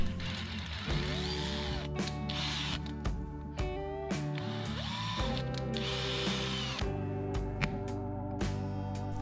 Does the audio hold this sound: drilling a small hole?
yes